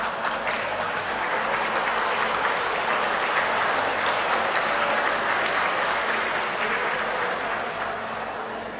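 A large audience at a felicitation ceremony applauds steadily and loudly for the full stretch, a dense, sustained wash of clapping that eases only slightly toward the end.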